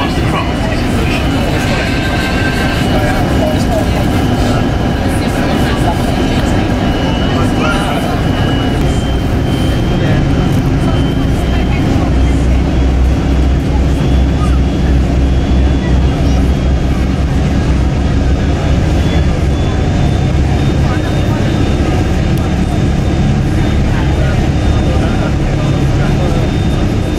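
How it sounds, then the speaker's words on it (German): The last hovercraft ferry in service, on the Isle of Wight route, starting up: a loud, steady roar and drone of engines and fans heard from inside the passenger cabin, filling the space without a break. "Der Start ist schon spektakulär, es wird laut in dem Fahrzeug"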